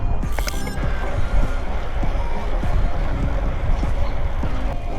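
Wind buffets the microphone while cycling along a lakeshore route on a cold, windy day, a steady rough rumble with creaks and knocks from the bike throughout.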